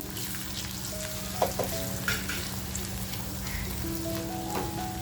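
Homemade masala dropped into hot oil for a dry fish dish, giving a quiet continuous sizzle and crackle with a few light spoon clinks over a low steady hum.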